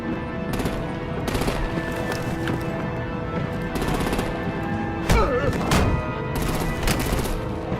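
Artillery and automatic gunfire in the video game Batman Telltale Season 2, with repeated bursts of rapid shots and blasts sounding loud and close over a steady rumbling battle din.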